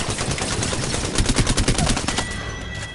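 Rapid bursts of gunfire from a shooting video game, a steady crackle of shots rising into a louder run of distinct reports midway, then thinning out near the end.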